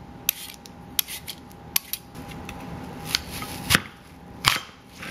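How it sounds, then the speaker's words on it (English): Apple being peeled by hand in a kitchen, a series of sharp, close clicks and scrapes spaced irregularly, fairly quiet, with no talking. "The first thing I'm going to do is peel my apple"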